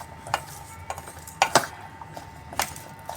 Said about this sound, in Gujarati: હવે આપણે ધીમે ધીમે બધું મિક્સ કરી દઈશું.